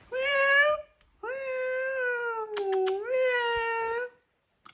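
Kittens on a Danish stud farm give two long, loud, wavering meows near the microphone, separated by a short pause, with a brief soft sound between them.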